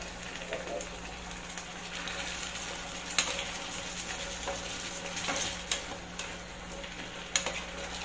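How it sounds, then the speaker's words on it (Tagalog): Okra (lady finger) fries with tomato in a pan while being stirred, a soft, steady sizzle with occasional utensil clicks and scrapes, fairly quiet and without speech. "Haluin lang natin."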